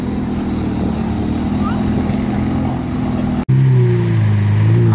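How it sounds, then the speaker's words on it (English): A McLaren sports car driving away, a loud, close engine drone that shifts into a deeper, rising tone as it pulls off, heard among outdoor street noise. "McLaren leaving the building."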